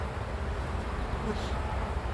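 Honey bees buzz in a dense, continuous drone around an opened beehive during a hive inspection, close and steady, with faint speech underneath.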